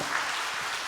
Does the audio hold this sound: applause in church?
yes